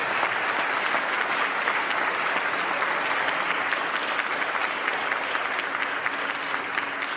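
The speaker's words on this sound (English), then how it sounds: "Give him a round of applause to share the story." An audience applauds a speaker at a motivational talk, a dense and steady wash of clapping that holds at even loudness for about seven seconds without any talk.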